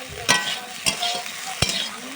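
Okra and potatoes stir-fry in a pan with salt, a soft steady sizzle broken by three sharp spatula scrapes at roughly even intervals, close and fairly quiet.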